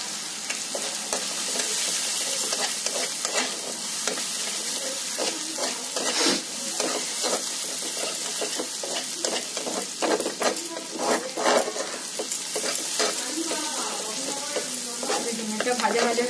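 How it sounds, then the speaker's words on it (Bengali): Crushed garlic and chopped green chilli fry in hot oil in a pan, giving a steady, close sizzle broken by frequent scraping stirs, with no talking. "রসুন, থেতো করা রসুন আর কাঁচা লঙ্কা কুচিটা দিয়ে দিচ্ছি। এটা একটু ভেজে নিই"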